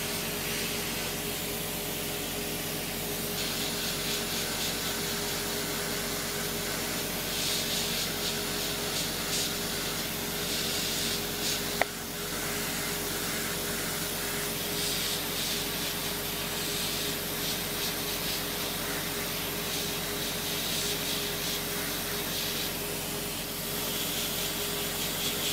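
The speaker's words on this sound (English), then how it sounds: "We'll change our drill to a smaller drill later on." A podiatry nail drill sands a thick fungal toenail, making a steady, loud whirring hiss that runs continuously with slight grinding variations and one brief click midway, no talking.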